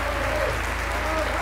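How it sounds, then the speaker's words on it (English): A packed gallery in the House of Representatives bursts into dense, raucous applause, a steady, loud wash of clapping throughout, with a faint voice underneath. "The crowd breaks into raucous applause at this statement."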